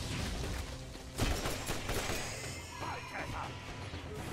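A sharp burst of gunfire in Borderlands cracks out, with a few quicker impacts and a busy, noisy background bed of music and effects.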